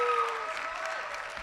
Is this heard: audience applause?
yes